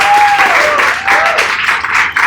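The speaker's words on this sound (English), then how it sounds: "So first, actually, round of applause for Justin." A gathered crowd applauds Justin with dense, steady clapping that holds loud for about two seconds, a faint tonal whistle-like line drifting over it early on.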